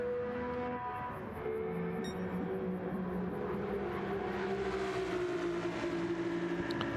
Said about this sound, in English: Porsche has a nice little scream to it.